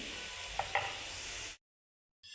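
Vegetable stir-fried over a high flame in an iron kadhai gives a steady, close sizzle with a couple of sharp scraping clicks, then cuts abruptly to silence before the frying resumes.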